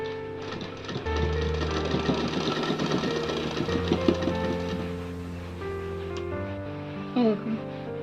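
A sewing machine stitches the hook strip on the back of a blouse, starting up after a moment and running in a steady, close mechanical whir for several seconds before slowing and stopping, followed by a brief clunk.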